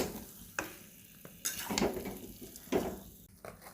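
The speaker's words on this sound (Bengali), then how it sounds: "ভালো করে নেড়ে নেব।" Spoon scraping and stirring through a thick poppy seed and coconut paste in a pan, with soft sizzling beneath a few distinct strokes, close and fairly quiet.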